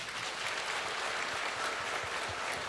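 A church congregation at an evening revival service breaks into steady, even applause, a dense wash of many hands clapping at moderate distance with no voices over it.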